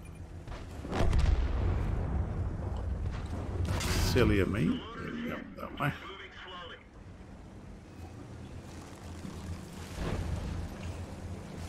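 Tank cannon fire and artillery in World of Tanks come as several heavy booming blasts with rumbling decay, spaced apart over engine noise and battle din, some near and some farther off.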